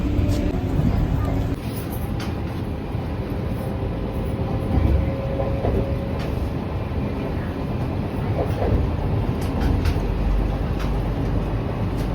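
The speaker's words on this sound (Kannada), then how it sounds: "ಇವಾಗ ಟ್ರೈನ್ ಬಂದು ಅನಂತಪುರಂ ಬಿಟ್ಟು ಹೋಗ್ತಾ ಇದೆ" Steady low rumble of a Vande Bharat train rolling along the tracks leaving Anantapur, continuous and fairly loud, with faint clanks and a high hiss throughout.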